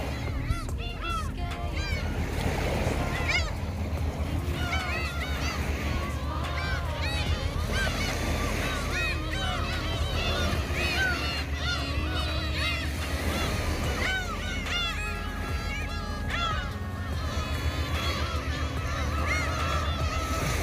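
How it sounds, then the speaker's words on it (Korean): Many seagulls cry and squawk over one another continuously at Daecheon Beach in Boryeong, South Korea, with a soft wash of surf and wind underneath. "갈매기 울음소리도 듣고"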